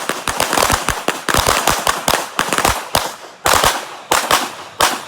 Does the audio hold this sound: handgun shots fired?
yes